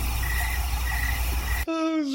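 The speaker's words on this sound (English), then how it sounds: "the crickets are on time and a half" Steady insect chirring, most likely crickets on a Sunday evening, fills the first stretch as a constant high trill, then cuts off abruptly into a bright rising whistle-like tone near the end.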